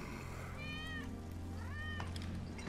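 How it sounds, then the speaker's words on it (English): A cat meows twice in Final Fantasy 7 Remake. The two drawn-out, rising-and-falling calls sound fairly distant over the game's steady background rumble and ambience. "That's Wedge's cat."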